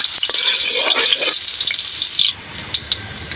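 Garlic dropped into a hot pan for a home-cooked eggplant dinuguan, giving a loud, bright sizzle that fades after a couple of seconds into scattered pops and crackles.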